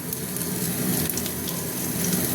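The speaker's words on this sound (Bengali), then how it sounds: "একটু হিং দিয়ে দিলাম তেলের মধ্যে" Asafoetida and bay leaf sizzle in hot oil in a pan, a steady, dense frying hiss that holds at an even loudness throughout, with no talking.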